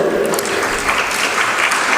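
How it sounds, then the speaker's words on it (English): Enthusiastic applause from a conference plenary audience, dense and steady clapping filling the whole stretch. "let's hear a huge round of applause for the entire team who's behind producing this film"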